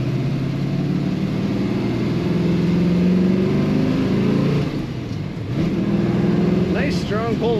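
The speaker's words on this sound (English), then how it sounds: "Nice strong pull when you put the throttle down and controlling it exactly how you want with that 4-speed." A 1967 Chevrolet Nova with a 4-speed manual pulls hard under throttle, its engine droning steadily and rising in pitch, then dipping briefly as if shifting before building again, heard from inside with talking over it.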